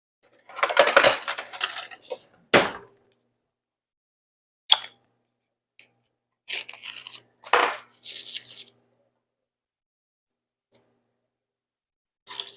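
A small store-bought container of cayenne pepper is opened, with scattered close rustles, clicks and scraping bursts of plastic and packaging separated by silent pauses.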